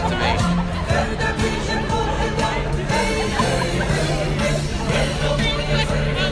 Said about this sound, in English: The crowd's pretty much dispersing